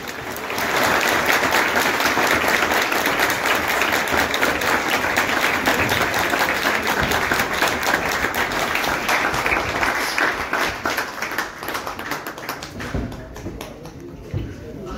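Loud, dense applause from the audience welcoming Ustad Kashif Bhatt at a pigeon flying club prize ceremony in Jaranwala, steady clapping lasting several seconds before thinning out and fading near the end, with voices faintly mixed in.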